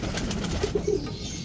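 Soft, low pigeon coos sound close by, a few short throaty notes in quick succession amid light rustling.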